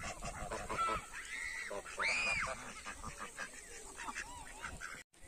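Ducks honk and quack loudly nearby at the Hysaj agritourism farm, with people talking over the calls.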